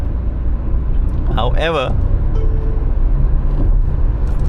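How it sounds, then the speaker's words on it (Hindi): Engine and road noise fill the cabin of a Tata Curvv while it is being driven: a steady low rumble that continues the whole time under someone talking. "इनफैक्ट नॉइज़ पिछले वाले इंजन से कम हुई है"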